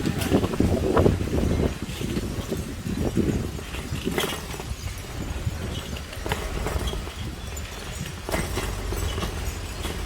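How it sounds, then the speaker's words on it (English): Steady wind rumbles and buffets a microphone outdoors, with a low continuous roar and occasional brief gusts and knocks. "It's quite windy here."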